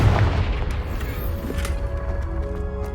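A Confringo fire spell explodes in Hogwarts Legacy, a loud booming blast at the start that decays into a rumbling tail with lingering crackle and ambient tones.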